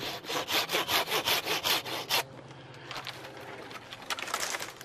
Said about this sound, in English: Here, I can get these with my handsaw.